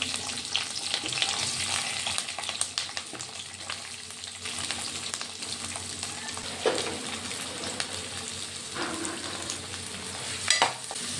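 Green chillies and onions fry in a pan with cumin, cardamom and cloves, giving a continuous bright sizzle broken by occasional stirring scrapes, close and steady with no talk.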